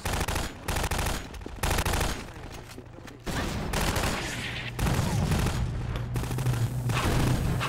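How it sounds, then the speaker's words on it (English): Gunfire in the Half-Life 2 video game, rapid automatic bursts and fusillades of shots that come in stuttering volleys with brief gaps, loud and close, accompanied by a steady low hum. "Who's shooting? Where are you shooting? Why are you shooting?"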